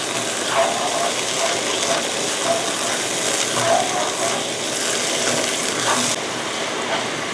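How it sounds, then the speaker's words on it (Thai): Chili sauce mixture of fish sauce and vinegar stirred in a pan over high heat, a steady scraping and sizzling texture with faint ratcheting clicks running continuously. "คนไปเรื่อยๆให้ส่วนผสมละลายจนเข้ากันดีค่ะ"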